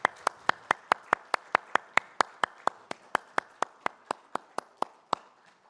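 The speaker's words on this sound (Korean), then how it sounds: "하나님께 영광의 박수 함께 올려드립시다" A church congregation claps together in a steady, even rhythm, about twenty sharp, unified beats in a row with no voices, then stops.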